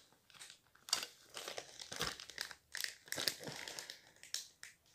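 Crinkling plastic packaging of grated gruyère cheese being worked open by hand, with repeated close crackling and rustling bursts in an irregular rhythm, alone without talk.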